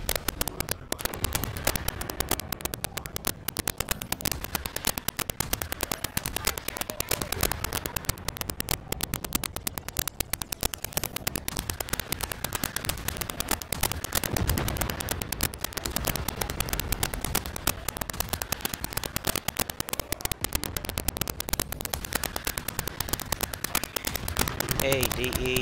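Rapid, dense gunfire from the Warframe Sevagoth quest, played solo, with sharp shots crackling almost without pause for the whole stretch while someone talks over the shooting.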